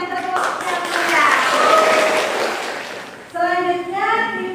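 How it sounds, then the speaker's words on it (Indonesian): A class applauds after a group presentation in a school lesson, with a burst of clapping mixed with voices that fades before a speaker's voice takes over near the end. "Oke, kita berikan tepuk tangan"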